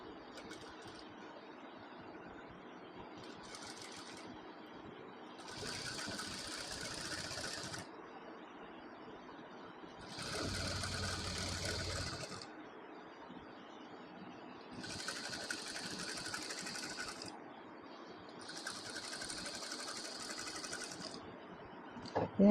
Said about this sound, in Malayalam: ഇനി ഇതിൻ്റെ മുകളിൽ കൂടെ ഒരു ടോപ്പ് സ്റ്റിച്ച് കൊടുക്കുക